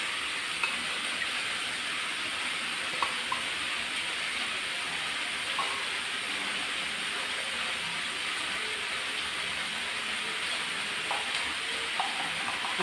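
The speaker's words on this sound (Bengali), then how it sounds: "এই সবগুলোকে আমি ভালো করে নেড়ে চেড়ে নেব।" Chopped onion and carrot frying in a pan for a chicken roll filling, stirred with a steady, fairly loud hiss of sizzling and a few soft scrapes and clinks from the utensil.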